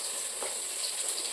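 Fish frying in hot oil, a steady bright sizzle with spattering crackles throughout, close and continuous with no talking.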